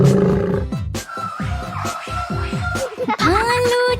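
Children's voices imitate a lion's roar in a jungle song, a series of about seven short, rhythmic growling roars with rising pitch, ending in a longer shout over a loud backing.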